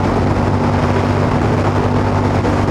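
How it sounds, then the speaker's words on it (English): A Royal Enfield Super Meteor 650 cruising in sixth gear produces a loud, steady engine drone with a low hum, heavily mixed with constant wind roar and no clear rise in pitch. "We can just overtake in 6 gear with ease."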